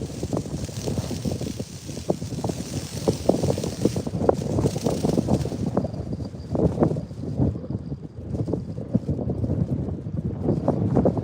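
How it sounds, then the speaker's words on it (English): Wind gusts buffet the microphone while fishing at night, producing a rough, uneven rumble that swells and dips in bursts throughout. "Fishing in the wind is freaking tough."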